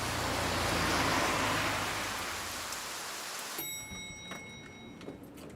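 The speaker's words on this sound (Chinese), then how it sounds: "晶晶， 下这么大雨还过来啊？" Heavy rain falling in a dramatized scene, a dense loud hiss that fades after a few seconds into quieter dripping with faint ticks.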